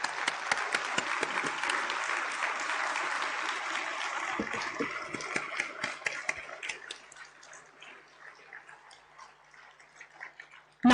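A hall audience at an institute's annual function gives a standing ovation, dense applause that thins into scattered individual claps and fades to near quiet, with a brief sharp sound at the very end.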